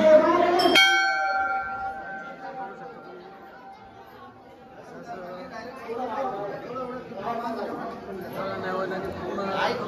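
At the Khandoba temple in Chandori, a temple bell is struck once, loud and ringing, before it fades into steady crowd chatter and nearby voices.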